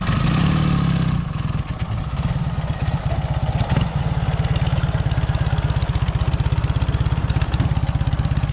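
Motocross dirt bike engine idling loudly up close, then the throttle opens and it pulls away with a steady, rapid rumbling beat in a forest setting.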